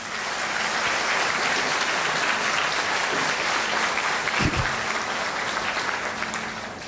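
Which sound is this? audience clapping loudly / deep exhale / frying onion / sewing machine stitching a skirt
audience clapping loudly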